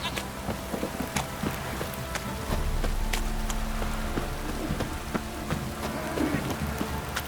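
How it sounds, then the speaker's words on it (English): A heavy downpour falls in the video game The Witcher 3: Wild Hunt, a dense, steady hiss of rain that swells slightly midway and carries on without a break, close and enveloping. "This downpour's a bastard, it is."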